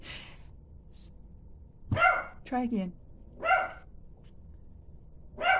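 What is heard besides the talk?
dog barking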